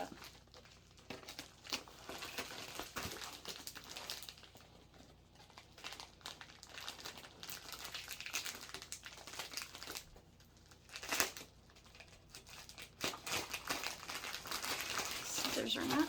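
Soft crinkling and tearing of a padded plastic bubble mailer being opened with scissors, with quiet rustles and snips under occasional talk.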